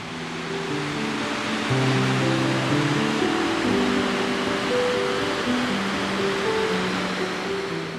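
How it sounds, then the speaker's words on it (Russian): A steady roar of rushing water from a waterfall over a hundred metres long with a 64-metre drop in Kamchatka, constant and loud, with a soft melodic tune playing underneath. "Длина водопада – более сотни метров."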